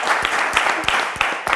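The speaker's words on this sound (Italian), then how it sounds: "E facciamo anche un applauso a tua figlia." A studio audience on an Italian TV quiz show claps briefly for a contestant's daughter, with a short burst of moderate, steady applause.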